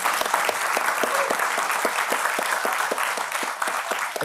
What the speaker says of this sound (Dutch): Mag ik een warm applaus voor Dien Bowen